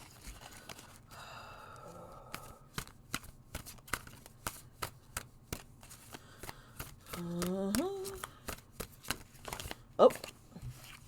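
Tarot cards are shuffled and handled during a reading, with many quick sharp riffles and snaps in an irregular rhythm, and a voice briefly sounds midway.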